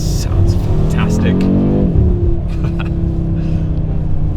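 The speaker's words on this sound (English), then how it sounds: "it sounds really, really good when you hit the gear change right on the 5-cylinder" An Audi RS3 Performance Edition five-cylinder engine drives in winter conditions, with a rising rev and a pitch drop at a gear change, heard as steady cabin rumble under someone talking throughout.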